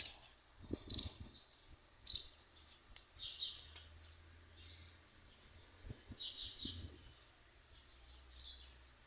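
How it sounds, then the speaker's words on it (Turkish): Faint bird chirps and short calls come and go in a quiet, breezy garden, scattered irregularly over soft background noise. "Umarım kuş sesleri de duyuluyordur."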